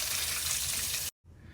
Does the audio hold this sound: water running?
yes